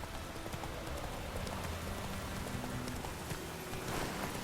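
Roach, the horse in the video game The Witcher 3: Wild Hunt, walks at a steady pace, and her hooves clip-clop in a regular rhythm under a soft, rain-like background wash.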